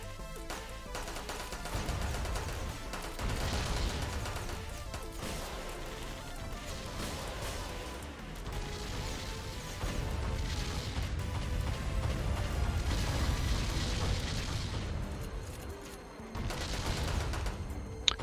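Heavy booming cannon blasts and crashing impacts from the mech combat game Metal Dogs, with repeated shots amid a dense, loud, continuous battle din.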